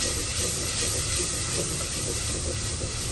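Masala for aloo methi sabzi frying in a clay pot gives a steady, loud, close sizzling hiss that holds evenly throughout, with no talking.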